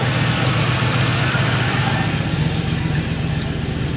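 A 1996 Impala SS with an LS engine swap idles with the A/C running, giving a loud, steady low rumble at close range. A constant whir of the compressor and fan sits on top, with no talking.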